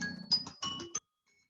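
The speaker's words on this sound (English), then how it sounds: "it's a computer saying I couldn't go further" A computer alert plays as a short series of bright electronic chime tones, about four quick blips within a second, followed by silence and a faint trailing echo.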